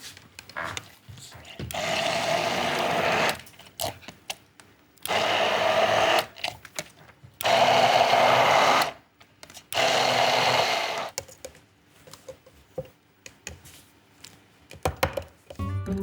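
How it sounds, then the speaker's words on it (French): A blender coarsely pureeing Indian-style eggplant caviar, four loud whirring bursts of a few seconds each, separated by knocks and clatter from the jar and tools, up close with no talking. "Donc ici, on va mixer hein, notre caviar d'aubergine."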